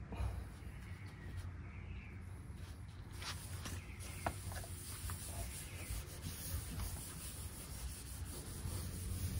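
A rag rubs True Oil finish into cabinet-grade wood on a camper sink cooking counter, steady close scrubbing strokes with brief scrapes and knocks, no talking.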